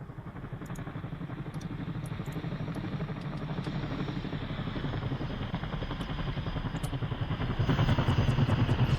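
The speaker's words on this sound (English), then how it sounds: "First Mi-24 is coming into the AO." A Mi-24 helicopter in Arma 3 approaches with a steady, rhythmic rotor chop and engine drone that grows louder toward the end.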